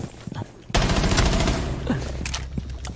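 In a shooter video game, a sudden loud burst of rapid gunshots erupts after a quiet moment, followed by a few scattered sharper shots.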